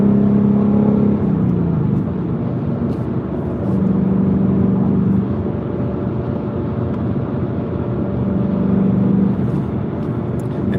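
A Ford Mustang's engine drones from inside the car while driving, its pitch rising and falling in long sweeps as the revs climb and ease off. The loud, close, continuous sound plays with no talking.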